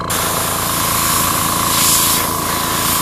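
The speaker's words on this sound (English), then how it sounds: "pressing the trigger on my airbrush" An airbrush sprays compressed air at 50 psi from a compressor, giving a loud, steady hiss that runs close and unbroken for a few seconds.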